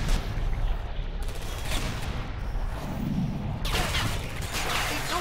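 Automated turrets fire in Portal 2, a dense continuous crackle of rapid gunfire with sharp bursts, loud and sustained throughout, no talking.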